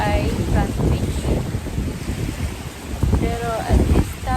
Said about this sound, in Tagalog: Pero at this time, mahangin po siya ngayon. Tsaka maulan.